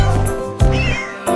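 A cat meows three times, each a clear, close, drawn-out cry, over a light musical backing in a cheerful French children's song.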